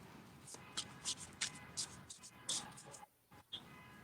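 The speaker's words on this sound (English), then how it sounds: "I'm shuffling away my cards here." A deck of cards being shuffled up close produces a series of quick papery riffles and soft flutters in short bursts, with a brief pause late in the sequence.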